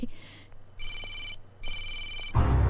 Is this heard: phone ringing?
yes